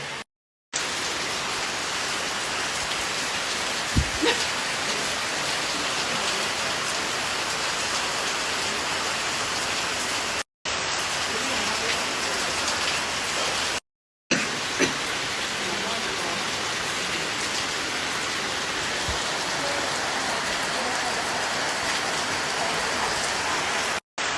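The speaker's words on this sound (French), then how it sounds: "une pluie battante comme ça" Heavy pouring rain in Thailand in November, a steady, dense hiss of downpour drumming on surfaces, loud and continuous with a couple of brief cuts.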